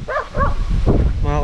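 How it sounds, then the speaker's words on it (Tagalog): A dog barks twice close by in a flood-hit neighbourhood where motorcycles are being dug out, with a short whimpering yelp at the end over a background of rumble and noise. "Aso."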